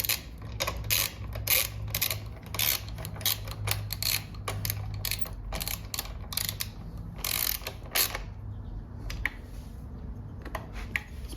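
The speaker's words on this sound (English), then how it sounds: "And go ahead and tighten down the bolts." Ratchet wrench tightening the bolts on a Honda CBR 650R integrated taillight and tucked mount, a rapid series of sharp metallic clicks in quick bursts, close and clear, easing off to sparse clicks near the end.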